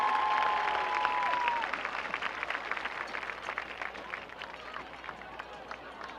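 A crowd in the stands at a high school football game between Eisenhower and Romeo applauds and cheers for the dance team seniors, with steady clapping that thins slightly after the first seconds. A brief whistle-like tone sounds near the start.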